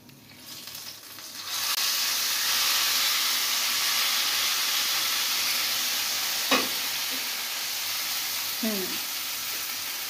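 A loud burst of sizzling erupts as hot oil tempering hits kadhi curry, then settles into a steady hiss with a couple of brief clinks of a utensil.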